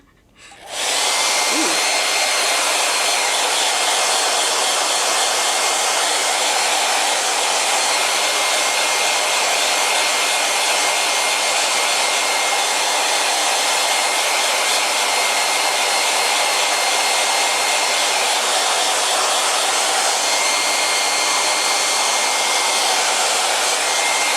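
A hair dryer blows on a freshly painted figure, switching on abruptly and then holding a loud, steady roaring whoosh for over twenty seconds, alone without talk.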